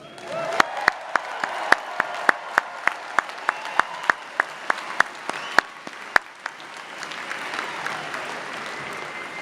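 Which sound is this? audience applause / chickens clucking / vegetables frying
audience applause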